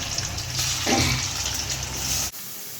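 Chicken meat frying in a pan on a stove, a close, continuous hissing sizzle that stops abruptly near the end, without speech.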